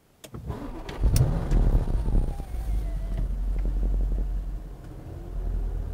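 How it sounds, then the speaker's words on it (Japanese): A 2016 Audi S7 Sportback engine cranks over with a brief starter whir, catches, and settles into a steady low idle after a quick rev, close by. "ではエンジンを始動します。"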